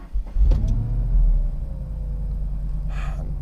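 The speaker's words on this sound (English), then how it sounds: "All right, cold start in the Lightning." A Ford F-150 Lightning electric pickup with a MagnaFlow exhaust starts from cold, giving a brief whirring rise over a steady low rumble, with a short whine near the end.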